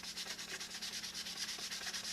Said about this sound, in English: Oh, this sawdust will kill you. I hate sanding indoors.